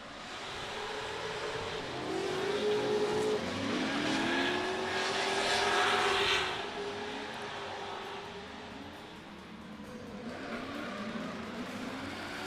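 Drift cars battling through a course at Drifting the Plains, engines whining and revving continuously at moderate distance, rising to a louder peak midway before easing off.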